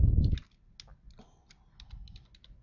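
Scattered light clicks of typing on a computer keyboard, sparse and fairly faint, follow a short burst of louder handling noise at the start.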